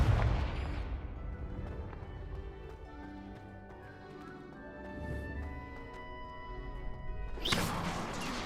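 A Confringo explosion spell goes off in Hogwarts Legacy. A deep blast rings out with a resonant, tonal decay, and a sharp crash follows near the end. No one speaks.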